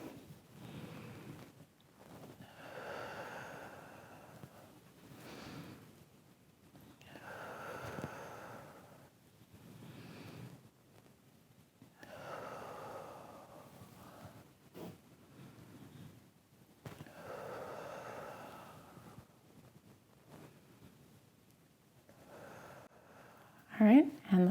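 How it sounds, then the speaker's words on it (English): Slow, deep breaths drawn in and let out during an upper-body stretching exercise, soft and close, rising and falling in long repeated cycles about every five seconds, with a faint airy hiss. "Taking deep breaths."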